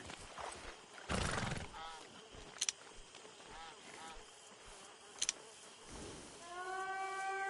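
Horse in Red Dead Redemption 2 lets out a loud whinny that rises near the end, joined by clip-clop hooves and sharp tack jingles, while a rider speaks soothingly nearby.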